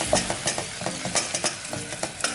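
Butter and flour are stirred in a hot pan, with a soft sizzle under quick, rhythmic scraping strokes up close.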